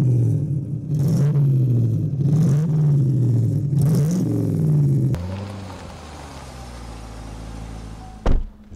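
A Corvette C1 V8 engine idles with a deep, loud rumble close by, its pitch rising and falling through several revs before it settles into a lower steady burble and ends with a sharp short burst.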